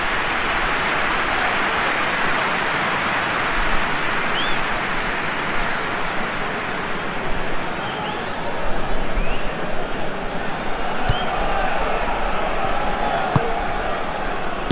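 Stadium crowd noise from the PES 21 football simulation during a Portugal vs Congo DR World Cup match: a steady, dense roar of spectators running throughout, swelling slightly midway, with no talk over it.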